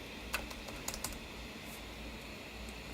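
A few sparse keystrokes on a computer keyboard while entering a measurement into an online photo-to-3D-model tool, with isolated clicks and pauses over a low steady hum.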